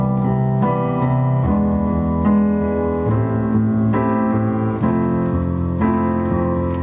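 Keyboard chords in a steady rhythm, played as a full variation of a chord progression, sounding sustained and even with regular chord changes roughly every second, alone and clear at close range.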